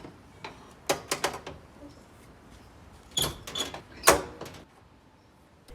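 Side doors of a Chevy Corvair Greenbrier van are handled and swung open, producing a few clustered metallic clicks, clunks and latch knocks up close, with quiet pauses between bursts.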